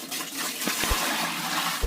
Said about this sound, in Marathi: दोन्ही पण गुंड घासून पाणी भरून घेते त्याच्यामध्ये